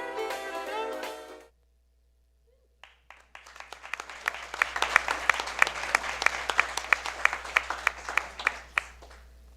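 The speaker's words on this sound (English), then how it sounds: "Another round of applause." An audience at a board of education meeting breaks into sustained applause after a brief stretch of speech and a pause, the clapping building quickly and staying dense and close.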